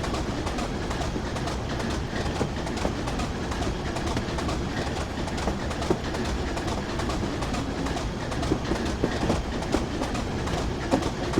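A train runs along rails in Train Simulator 2015 on the Darlington to Durham route via Bishop Auckland, giving a steady loud rumble with rhythmic clickety-clack wheel beats throughout and no talking.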